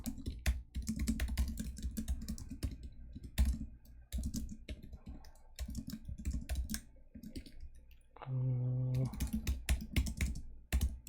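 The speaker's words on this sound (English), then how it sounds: "I don't mind typing it out" Typing on a computer keyboard during a Leetcode coding contest, rapid, irregular key clicks close to the microphone, continuing in bursts with a brief tonal sound partway through.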